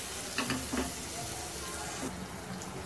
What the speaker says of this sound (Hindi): देखिए टमाटर डालकर हमने बहुत अच्छे से मिक्स कर दिया है